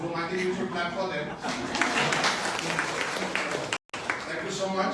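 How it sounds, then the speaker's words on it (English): Voices open, then a crowd at a women's business launch event in Ahmedabad breaks into broad applause, a thick sustained clatter of clapping with a brief cutout near the end. "I think you should clap for them."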